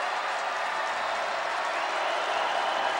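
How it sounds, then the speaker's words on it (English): Idaho's home crowd in the Kibbie Dome at a 2007 college football game against Hawaii cheers and applauds in a dense, unbroken roar, with a commentator speaking over it. "The Idaho crowd trying to get into it a little bit,"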